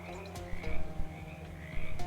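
Frog croaks in the video game Shadows Over Loathing repeat in uneven bursts over a low, steady background drone, with no one talking.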